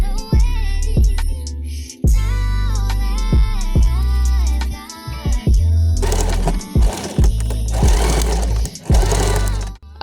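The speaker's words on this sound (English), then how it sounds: "I'm just going to backstitch on top of them." A sewing machine backstitches straps onto a kaftan dress, its needle running in steady loud rhythmic bursts with short pauses and a rougher, faster run near the end, no voices.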